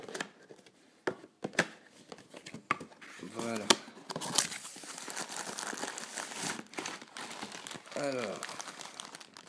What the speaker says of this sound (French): Donc, on enlève les scotch.